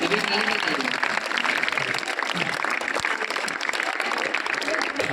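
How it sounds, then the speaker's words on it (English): A school crowd claps continuously for newly chosen student leaders, a dense, steady patter filling the room for several seconds with voices mixed in beneath it. "Clap everyone, keep clapping"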